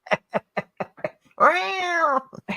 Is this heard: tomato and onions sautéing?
no